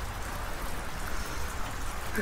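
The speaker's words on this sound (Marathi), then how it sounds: "पाऊस अजून थांबलेला नाही" Rain falling during a motorbike trip in Nepal, a brief, even hiss of drops that stays steady throughout.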